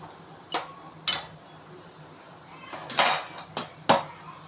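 Egg Hakka noodles being turned over in a pan, giving about six brief, scattered metallic clinks and scrapes of utensil against pan at irregular intervals, fairly close, over a quiet kitchen background.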